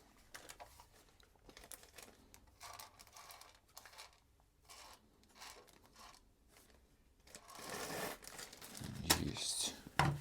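A small plastic bag is handled at a workbench while sorting radio components, giving quiet, intermittent crinkles and rustles that grow louder and denser near the end.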